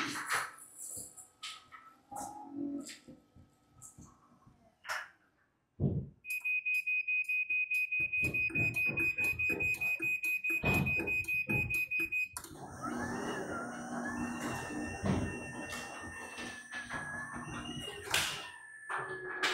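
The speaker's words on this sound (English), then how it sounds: "It will start to beep and flash." A LiftMaster garage door opener, 2022 or newer, beeps after its black rectangular button is pressed to lock in the travel limits. The close, shrill electronic tone repeats in a steady pulsing pattern for several seconds, then gives way to a lower, mixed background.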